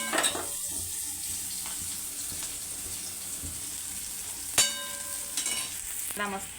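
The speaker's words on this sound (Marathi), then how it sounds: "कांदा मस्त फ्राय झालेला आहे" Onion frying in a pan gives a soft continuous sizzle, broken by a few sharp clinks of a utensil against the pan and some stirring toward the end.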